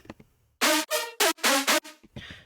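Dry synth stabs in Logic Pro X with no reverb, a handful of bright clipped chords separated by clean gaps of silence, loud and close with no other sound.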